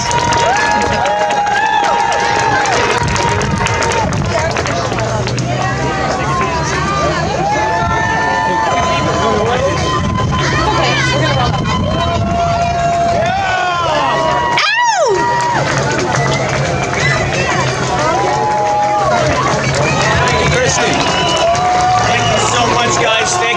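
A large outdoor protest crowd at Queens Park in Toronto cheers and claps continuously, with loud voices and whoops over the din and a brief dropout midway.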